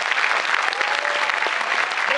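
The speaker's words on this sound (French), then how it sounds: "On peut l'applaudir, monsieur." A crowd claps steadily, a dense patter of applause that holds for a couple of seconds.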